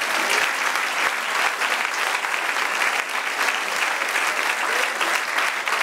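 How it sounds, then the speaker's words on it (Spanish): A church congregation claps in steady, dense applause that runs loud and unbroken from start to finish. "Denle un aplauso al Señor."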